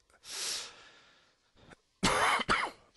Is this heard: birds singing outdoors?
no